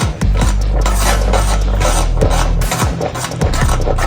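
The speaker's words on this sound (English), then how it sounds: "So let's go ahead and add in some sugar. And then stir it up." Sugar is stirred into a cornmeal, peanut and oats porridge in a pot. Loud, close metallic scraping and clinking of a spoon against the pot repeats in circular rhythm, with no voices.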